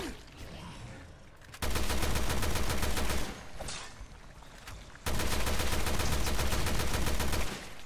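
Rapid automatic gunfire in Resident Evil 2 on PS4: two long, loud bursts of fast repeated shots, separated by a short pause with quieter game sound.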